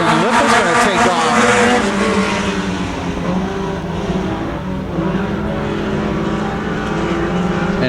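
Mini stock race cars at a dirt track roaring off together at the green flag, engines loud and dense with a rising multi-car drone that settles into a steady sustained howl, with an announcer talking over it.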